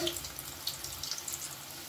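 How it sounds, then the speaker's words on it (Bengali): Red lentil dhoka cakes frying in oil until reddish, with a soft, continuous bubbling sizzle and faint crackles heard close by. "এগুলোকে আমি বা খুব সুন্দর করে লালচে করে ভেজে নেব"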